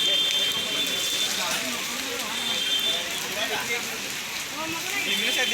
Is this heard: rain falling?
yes